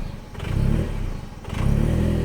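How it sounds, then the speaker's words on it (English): A 2006 Cobalt SS engine idles unevenly after a throttle body replacement. The steady low rumble surges up twice, close by, with no talking. "you're supposed to let it idle for 3 minutes, and it's going to bounce like it is now"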